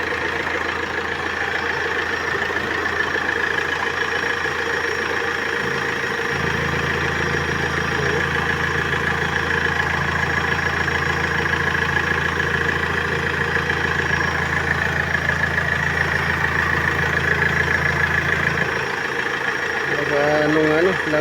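A car engine idles with strong blow-by, in a car with coolant overflowing and the engine overheating; a steady close rumble hums throughout, with a heavier low throb through the middle stretch, while a person talks nearby.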